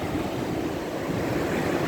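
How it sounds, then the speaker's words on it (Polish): Steady roar of rough Baltic Sea waves breaking on a shore, a continuous loud wash of surf with wind noise and no voices. "Spójrzcie, jakie fale."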